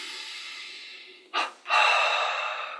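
A slow, deep inhalation during a guided yoga meditation breathing exercise: a short breath, a brief pause, then a long, close, steady inhale that gradually fades.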